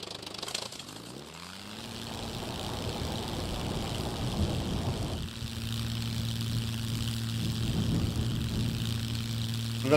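A seaplane's propeller engine drones steadily throughout a survival video game scene, its low tonal hum rising after a brief pause, while a voice talks faintly underneath.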